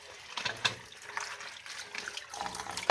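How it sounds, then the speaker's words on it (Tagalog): Hot tap water runs into a sink while dishes are washed up, a continuous close splashing with irregular swells and small knocks, no voices. "Pakikita ko sa inyo yung paghugas."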